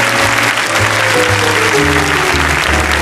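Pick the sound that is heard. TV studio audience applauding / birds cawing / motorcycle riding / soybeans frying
TV studio audience applauding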